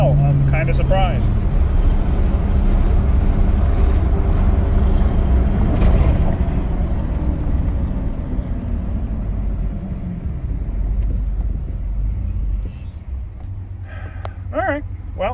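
A 5.3 engine truck running on the road with the windows down, a steady loud rumble of road and wind noise throughout, with a voice talking over it early on.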